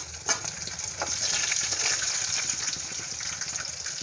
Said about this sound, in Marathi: मी एकदा तेलात फ्राय करून घेते आहे तर त्यानंतर मी ठिकाणी हिरवी मिरची घालून घेते आहे